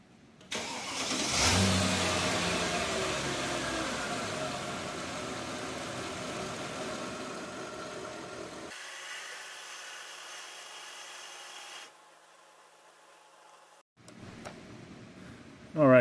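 A car engine starts and runs near the microphone, revving briefly and then settling into a steady hum with a fuel injector ticking faintly under it, before cutting out into near silence and a final short burst of noise.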